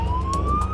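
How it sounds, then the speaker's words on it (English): Short burst of an emergency vehicle siren, a steady rising tone sounding fairly close, with a few faint rhythmic clicks behind it and no talking. "Mike and Eamon are being sent Code 1 lights and sirens to the 5-year-old boy"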